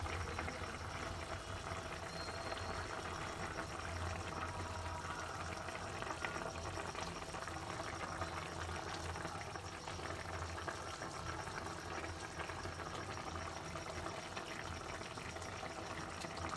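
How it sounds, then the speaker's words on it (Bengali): Curry of fish pieces with peas simmering in a pan on a medium flame, a steady close bubbling and hiss that runs unbroken for the whole stretch with no talk over it. "দেখো বন্ধুরা, খুব সুন্দরভাবে ফুটছে।"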